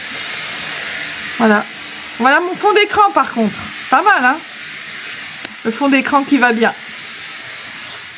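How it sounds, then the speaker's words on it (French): A vacuum cleaner runs as a steady hiss in the background while someone talks over it in short phrases. "Ah, il y a un aspirateur qui se déclenche."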